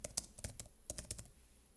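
Typing on a computer keyboard in a word processor: a quick run of about a dozen light, close clicks in uneven bursts, faint and alone with no talk.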